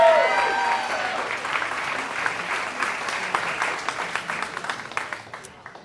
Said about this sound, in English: Big round of applause for Matty.